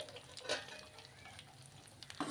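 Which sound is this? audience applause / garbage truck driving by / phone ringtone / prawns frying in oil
prawns frying in oil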